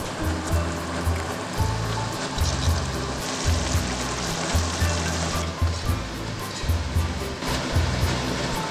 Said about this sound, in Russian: Кипит уже довольно хорошо